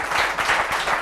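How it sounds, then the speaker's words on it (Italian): A brief burst of dense audience applause at a northeastern Italian sports television event, steady clapping from many hands filling the whole moment. "deve scattare un altro applauso"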